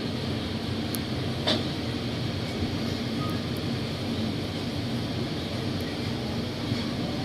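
Steady, dense mechanical rumble of Bangkok's Pink Line electric monorail train running, continuous and even throughout with a faint brief click partway through.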